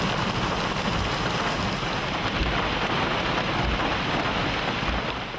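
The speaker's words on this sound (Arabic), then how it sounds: "أمطار الخير تواصلت مجدداً على مناطق متفرقة من الدولة" Steady rain pours down in the Wadi Al Helo area of the UAE, a dense continuous hiss of falling drops with low rumbling underneath, loud and unbroken, with no voices.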